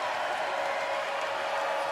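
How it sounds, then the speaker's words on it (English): A crowd at a women's college volleyball game between Iowa State and Texas applauds and cheers in a steady wash of clapping and noise that fills the arena. "Even the crew getting an applause right here."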